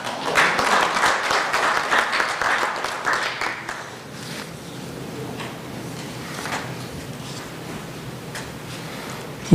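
Applause for an appointment at a forum event in a hall, a dense burst of clapping from the crowd that is loudest in the first four seconds and then fades to a lighter, thinner patter with room ambience.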